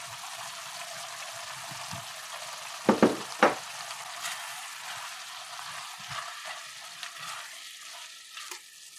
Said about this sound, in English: And now we're going to add our shrimp as well.